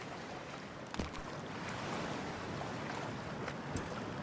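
Water splashes and sloshes as a female character wades into freezing water in Cyberpunk 2077, a continuous broad watery rush with a couple of sharper splashes near the start and end.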